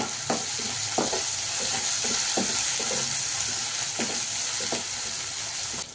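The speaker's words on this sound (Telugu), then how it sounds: "కొంచెం పసుపు, ఒకసారి బాగా కలుపుకుందాం" A spatula stirs ginger-garlic paste and turmeric through a hot pan for a capsicum and meal maker fry, giving repeated scraping strokes over a steady, close sizzle.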